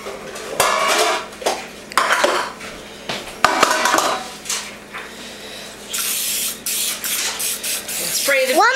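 Short hissing bursts of cooking spray on baking pans for homemade bread, mixed with clattering metal pans, close up, with a voice talking over parts of it.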